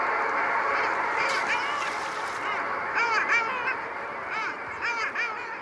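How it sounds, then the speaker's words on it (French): A flock of long-tailed ducks gives repeated nasal, yodelling calls, several birds overlapping in bursts over a steady background hiss, fairly close and loud. "Au Shetland, ils sont appelés calous, comme leur cri de ralliement."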